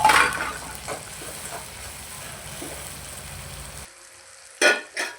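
Onions sautéing in a pan for besan zunka, a continuous sizzle with occasional stirring, then a short quiet gap before two sharp clattering knocks of a utensil near the end.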